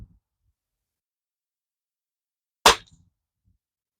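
A single sharp crack from a Pinty air rifle fired at a small target, loud and close, standing alone in near silence with a short faint tail after it.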